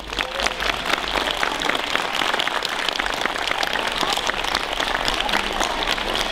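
Loud, sustained clapping from a crowd at a children's concert and dance celebration, dense and continuous like rain, filling the whole stretch without pause.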